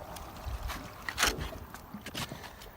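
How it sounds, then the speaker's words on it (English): Air bubbles and gurgles back up through a rainwater tank pipe, an irregular sloshing flow with brief bursts of bubbling and one louder surge near the middle. "And now that sound is because there's air in here, and that air is bubbling up back into the tank."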